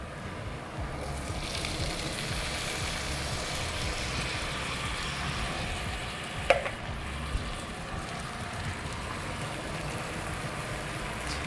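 Garlic and two cans of corn cooking in a pot give a steady, even sizzle and bubble that run throughout, with one brief clink partway through.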